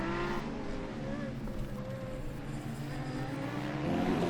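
Race cars lapping a circuit late in a race, engines droning and swelling as they pass at moderate distance, with a commentator talking over the motor noise.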